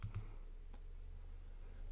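Mouse clicks selecting a flyer template on a computer, two quick near clicks at the start followed by a fainter click and another soft one near the end, over a steady low hum.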